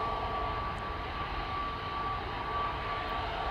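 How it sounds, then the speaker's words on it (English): KLM Airbus A321neo on flight 1777 to Berlin departing Amsterdam Schiphol, a steady jet engine roar with a sustained whine running through the short stretch, at moderate volume and free of talk. "KLM flight 1777 to Berlin. That's the A321neo over there."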